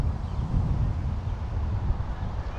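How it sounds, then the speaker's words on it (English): Gusty wind buffets a drone microphone, producing a continuous low, rumbling roar that swells and dips throughout. "the wind just picked up a little bit, unfortunately"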